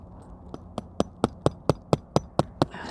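A hammer drives nails through a roof anchor into a thin roof stud, about ten sharp, evenly spaced blows ringing out close and loud in a quick steady rhythm.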